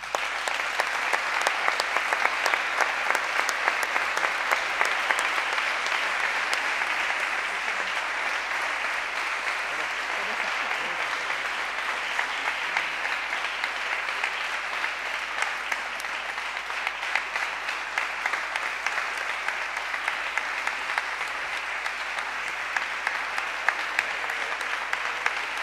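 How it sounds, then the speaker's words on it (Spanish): An audience at a women's sports gala in Galicia applauds loudly and continuously, a dense wash of clapping that holds steady throughout. "Un forte aplauso para ela."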